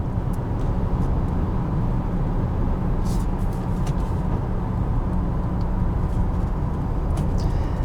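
A 2020 Chevrolet Blazer RS with a General Motors engine and nine-speed automatic, heard as a loud, steady, low drone with broad road rumble throughout.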